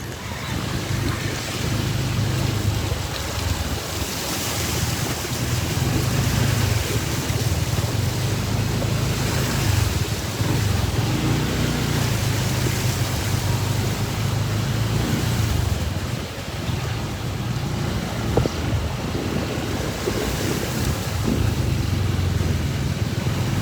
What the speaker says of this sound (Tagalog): maulan pa rin. Silip muna tayo dito sa Boracay White Beach.